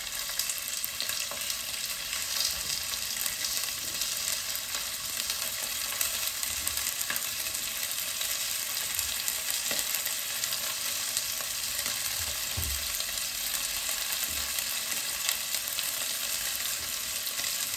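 Chicken tenders coated in fajita seasoning, salt and pepper fry in a hot pan, giving a steady, close, dense sizzle that runs unbroken throughout, with no voices.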